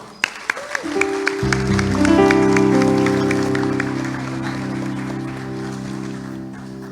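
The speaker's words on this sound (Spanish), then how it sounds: "Un aplauso fuerte." Applause for choir director Eric Rincones at a kids and teens Christmas song festival begins with scattered claps, then swells into steady crowd clapping beneath a sustained, loud musical chord that gradually fades.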